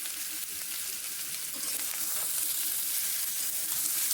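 Cauliflower with chopped tomato frying in a pan, giving a steady, close, continuous sizzle with faint stirring scrapes and no talk.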